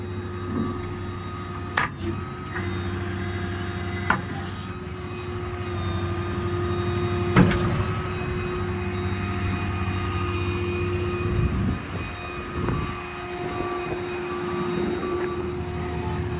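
A Stellar 7621 hydraulic crane on a 2013 Ford F-550 4x4 diesel truck runs at full speed with a steady mechanical drone and hum, broken by occasional clunks and knocks, at a moderate, even level.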